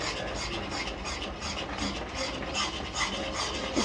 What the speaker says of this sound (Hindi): तो इस तरह से आप इसे चलाते रहे, छोड़ना नहीं है बिल्कुल।